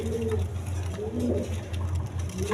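Domestic pigeons at a breeding farm coo in low, repeated phrases, close and moderately loud over a faint background hum.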